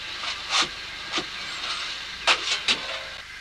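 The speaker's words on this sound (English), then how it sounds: "the fireman lit the fire and made a nice lot of steam" A steam engine hisses softly in the background, with several short bright bursts of escaping steam standing out over a faint continuous hiss, spaced irregularly and fairly quiet.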